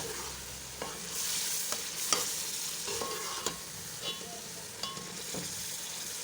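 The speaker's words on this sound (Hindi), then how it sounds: "इसको भूनेंगे। भूनने से ही आलू और जो मटर है ना" Potatoes and peas stir-fried in a pan for aloo matar pulao, a low continuous sizzle under irregular close scrapes and taps of a spoon stirring against the pan, without speech.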